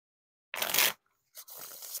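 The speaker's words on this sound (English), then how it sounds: "I can get a good riffle shuffle or bridge shuffler." Bicycle Third Edition Johnny Cupcakes playing cards riffle shuffled by hand: a sharp half-second burst of rapid card flutter, a short pause, then a softer second stretch of riffling with a faint tap between, close and alone.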